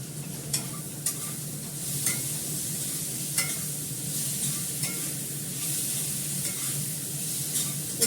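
Black cumin seeds sizzling in hot oil on a gas stove, a dense continuous crackle close up with a few sharp pops and clicks scattered through, no talking.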